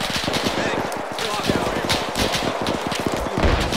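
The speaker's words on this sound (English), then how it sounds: "this is a good place to die to an MG42 burst!" Sustained, rapid MG42 machine-gun fire in an Arma 3 Iron Front manor assault, a dense rattling stream of shots lasting several seconds at steady loudness, with voices talking over the gunfire.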